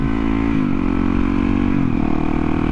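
A dirt bike engine runs steadily up close, a loud buzzing drone whose pitch drops and climbs through a couple of quick shifts while cruising on a road.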